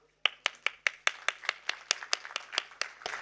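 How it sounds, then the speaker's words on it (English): A small audience claps steadily at a literary conclave on cinema, roughly a dozen crisp, evenly spaced claps rising in quick succession before blurring into a denser patter at the end, close and clear with no talking. "A huge round of applause for them, please."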